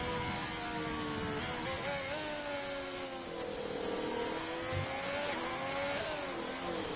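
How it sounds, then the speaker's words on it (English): A Ferrari race car engine drones in a racing video game, revs climbing and dipping through gear changes, a steady, fairly quiet mechanical whine with no talk over it. "Oh, and look at this beautiful Ferrari."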